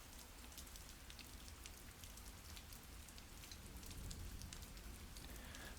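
Steady rain tapping on an awning in the rainy futuristic city of Batvia in the video game Glory Hounds, a dense, even patter holding at the same level throughout with no voices.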